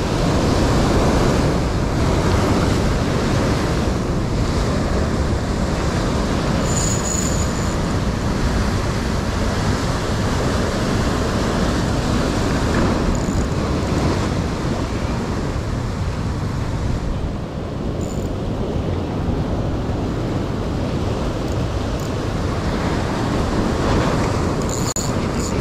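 Sea waves crash and surge against coastal rocks on a fishing spot, a loud, continuous roar with wind buffeting the microphone throughout.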